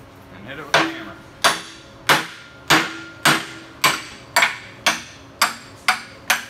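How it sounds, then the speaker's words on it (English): A hammer strikes a kingpin remover welded to a truck kingpin, sounding as ten sharp, ringing metallic bangs at a steady rhythm with short decaying tails between blows, loud and close. "And hit it with a hammer."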